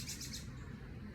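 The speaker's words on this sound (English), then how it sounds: "Those are birds." Birds chirp outdoors on a peaceful nature walk, giving a few quick, faint tweets early on over a soft background hush.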